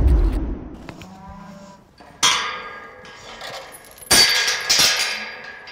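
Cattle on a ranch moo nearby, several loud calls in a row with short gaps between them, mixed with faint metallic clinks and clanks.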